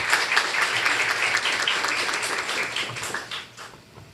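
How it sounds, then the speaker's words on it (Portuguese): Audience applause at a municipal event, heard as a dense, steady clapping from a crowd at moderate distance that fades out over the last second. No talk is heard. "Uma salva de palmas."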